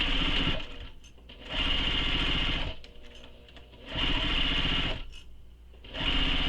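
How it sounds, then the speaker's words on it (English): A sewing machine stitches the trim seam of a slip pocket on a Nora bag, running in three long steady bursts with brief quieter pauses between them, close and fairly loud. "So now we're going to sew this with the seam allowance given in the pattern."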